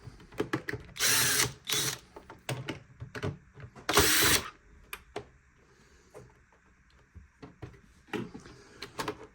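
Casing screws come out of a Dreame robot vacuum under a cordless screwdriver, with several loud close whirring bursts separated by quieter clicks, handling and faint ticks of plastic parts and screws.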